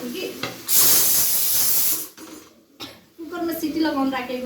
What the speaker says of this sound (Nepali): कटहर चाहिँ मैले कुकरमा सिटी लगाउन राखेको